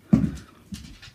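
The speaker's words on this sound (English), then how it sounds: "that is my dog Scout" A dog pants close by in short breathy bursts, a heavier puff first and then a few softer ones.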